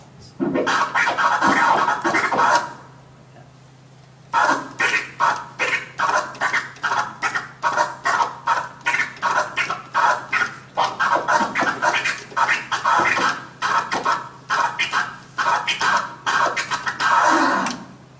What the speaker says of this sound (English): you move your fingers across the crossfader to create quick crab or kani leg sounds